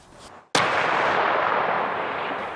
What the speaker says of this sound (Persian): دوشنبه تانک‌های اسرائیلی به هدف‌های در غزه شلیک می‌کنند.